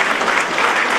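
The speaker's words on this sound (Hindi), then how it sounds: "मैं चाहता हूँ एक बार युवा साथी अपने लिए एक बार तालियां बजाएं।" Students at a Meerut University youth event break into loud, dense applause that stays steady for a brief moment with no one speaking.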